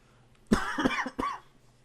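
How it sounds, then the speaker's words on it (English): Two or three harsh coughs close to the mic, a quick pair followed by one more after a short pause. "Got a bad cough."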